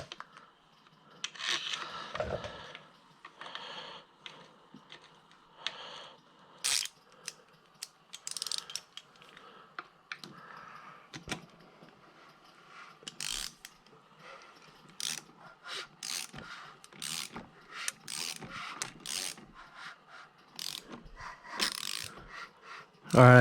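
Ratchet clicking in repeated bursts as it turns the crankshaft of a rebuilt engine, pawl ticks close and fairly loud with brief pauses between strokes, a little low speech in the background.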